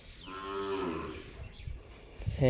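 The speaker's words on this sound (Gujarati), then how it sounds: "આપણે પીવરાવાના છે ઢોર" A cow on a rural Gujarati farm lets out one long, low moo at fair distance, the call rising and falling before fading into faint background noise and a short closer sound.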